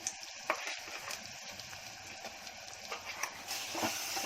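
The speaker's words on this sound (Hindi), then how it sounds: "अब मसाले को 2-3 मिनट अच्छे से भूनूंगी" Spice masala roasts in a pan with a faint steady sizzle and a few soft stirring scrapes, quiet and close, with no talking.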